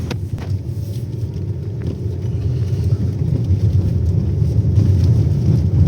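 A car drives slowly along a narrow, level asphalt village street in Ivankiv, heard from inside as a low steady rumble that grows slightly louder over time.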